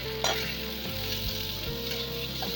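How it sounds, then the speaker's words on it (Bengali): Grated ginger frying in a pan with curry leaves for oats pulao, a steady sizzle with a sharp spit near the start, low steady hum beneath and a few stirring knocks, no voices. "একটু আদা গ্রেট করে দিয়ে দিচ্ছি। এরপর একটু ভালো করে ভেজে নিলাম।"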